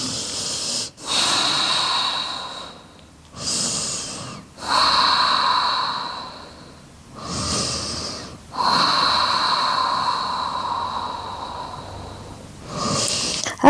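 Slow, deep yoga breathing during a morning routine, heard close and alone: a series of long, audible inhales and exhales, each lasting a few seconds, separated by brief quiet gaps.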